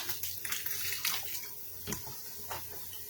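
Broth is poured into a pot of chicken chile with white beans, making a near, bubbling splash that comes in short uneven bursts and then tapers to a few drips, with no talking.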